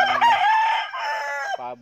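A fighting rooster crows once, a loud, drawn-out cock-a-doodle-doo close by, ending in a short rising final note.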